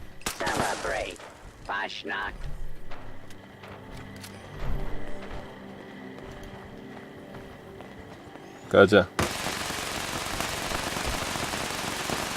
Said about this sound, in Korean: 와 폭발 미니건이야?